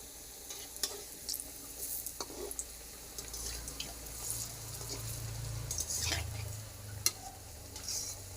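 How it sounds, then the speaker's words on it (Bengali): Cabbage pitha fry in hot oil with a constant soft bubbling sizzle and crackle, dotted with faint pops and light clinks of a utensil, close and fairly quiet with no talk. "তেল গরম হয়ে গেছে, এবার পিঠাগুলো আমি ভেজে নেব।"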